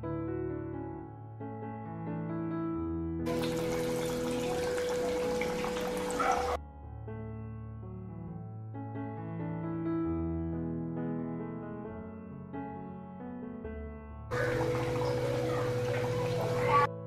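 Parippu vada, Kerala lentil fritters, dropped into hot oil: two bursts of loud, broad sizzling frying, the first lasting about three seconds and the second a few seconds near the end, over steady background music.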